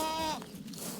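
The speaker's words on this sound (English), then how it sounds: "A herd of very friendly goats on a Montana farm in the beautiful countryside" A goat on a Montana farm in open countryside gives one short, wavering bleat that cuts off quickly, heard close over a broad outdoor hiss.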